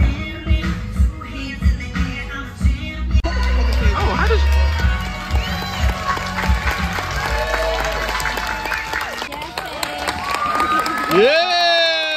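Crowd at a children's gymnastics camp graduation show cheers and claps loudly, with busy overlapping voices and shouts filling the space throughout, a few sharper whoops rising near the end.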